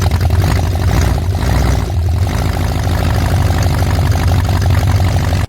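A Holden 308 V8 from an HZ one-tonner, still awaiting rebuild, runs steadily at close range, a loud continuous low rumble with a slight dip partway through before it cuts off.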